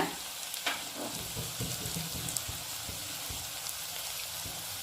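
Bitter gourd chips frying in hot oil give a dense, continuous sizzle with a few brief crackles and pops near the start, close up and steady throughout.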